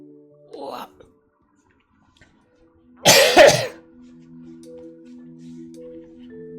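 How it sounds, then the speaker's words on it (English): A single loud, close cough bursts out after a faint earlier throat sound, followed by a quiet steady hum in the room. "That was just a cough"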